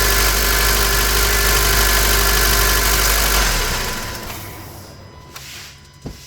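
A Honda Civic 1.8 VTEC engine with a major oil leak from the VTEC solenoid gasket idles with a steady close drone, which drops and fades away partway through, leaving quieter room sound.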